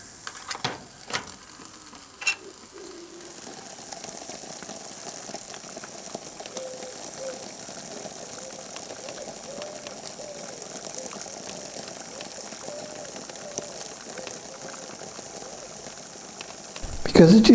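Water boiling in a pot over a homemade alcohol stove, a steady close sizzling hiss with faint bubbling that holds evenly throughout, opening with a few sharp clicks and ending in a brief louder rustle.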